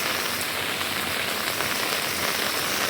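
Heavy rain pours steadily onto surfaces, a dense, even hiss that stays constant and loud throughout with no voices.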